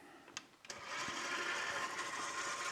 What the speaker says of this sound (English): And now we start the process of kneading.